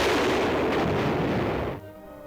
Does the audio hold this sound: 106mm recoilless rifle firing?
yes